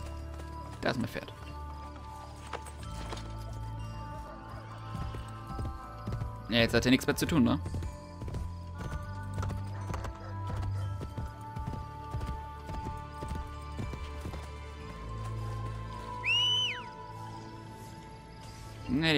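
Rhythmic hoofbeats of a horse in Assassin's Creed Brotherhood keep a steady clip-clop pace beneath game sounds, while someone talks briefly over them.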